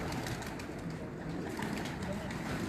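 Pigeons cooing amid noisy, hissy background, low murmuring coos blending into a dense, faint wash of sound with some voices nearby.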